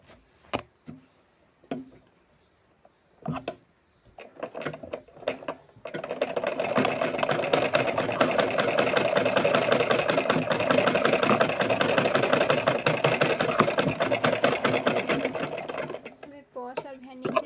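A sewing machine runs steadily for about ten seconds, stitching the sides of a bag made from old cloth. A few short bursts and a brief speaking voice come before the continuous mechanical whir.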